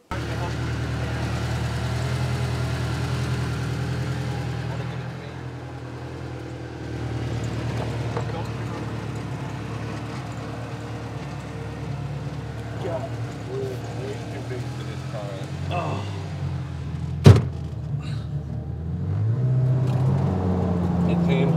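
Ferrari 348 Challenge fitted with twin turbos on a test drive, its engine droning steadily and fairly loud from inside the cabin, with a sharp transient near the end and people talking over it.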